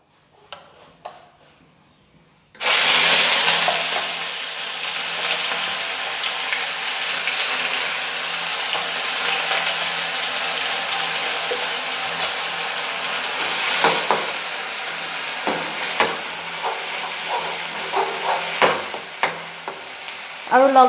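Onions dropped into hot oil in a kadai burst into a loud, steady sizzle that starts abruptly after a quiet moment and keeps crackling close up, with occasional stirring scrapes and pops.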